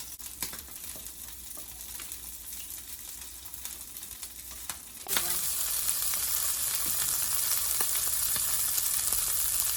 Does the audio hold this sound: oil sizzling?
yes